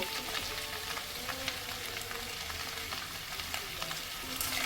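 Mixed vegetables for shukto fry over high heat in a pan with ginger paste, a steady close sizzle broken by the repeated scrape and knock of a spatula stirring them, with no talking.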